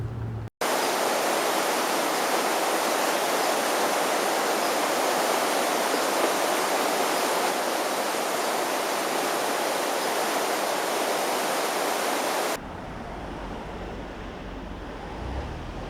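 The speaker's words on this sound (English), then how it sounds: "This is the 25th Avenue Southwest Bridge over the Elbow River." Elbow River floodwater from the 2013 Southern Alberta flood rushes under the 25th Avenue Southwest bridge, a loud, steady broadband roar that holds unbroken for about twelve seconds before dropping to a quieter, distant wash.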